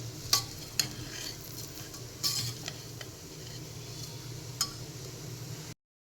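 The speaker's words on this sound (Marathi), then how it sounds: "आणि दोन मिनटं आपण हा छान परतून घेऊयात" Semolina (rava) dry-roasting in a pan for a daliya breakfast, stirred with a utensil: faint, steady rustling with a few sharp scrapes and clinks against the pan, close by and without talk.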